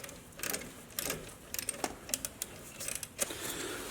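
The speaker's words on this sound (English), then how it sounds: "that's a 10 millimeter nut on the back of that I'll be taking off" Small ratcheting clicks and metallic taps come in short irregular bursts as a 10 mm nut is worked off the alternator wire terminal of a Jeep TJ. The sound is close and fairly quiet, with no talking.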